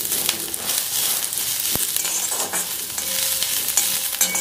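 Onion roasting in an iron wok for Malvani chicken curry, stirred steadily: a continuous close sizzle with repeated scraping and rustling strokes throughout, and no voices.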